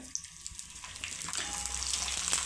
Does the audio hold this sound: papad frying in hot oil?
yes